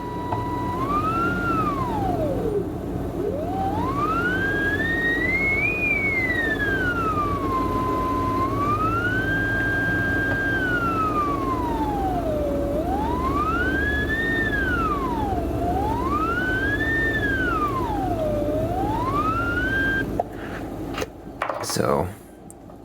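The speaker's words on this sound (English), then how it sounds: "as I tune around, we should hear the tone change" Forty-9er QRP radio transceiver's receive tone gliding up and down in pitch as it is tuned across the passband, a steady loud whistle sweeping repeatedly over about twenty seconds, ending with brief clicks and rustle.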